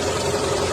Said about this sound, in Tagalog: Ganito yung makina na wala pang tama yung cylinder head gasket.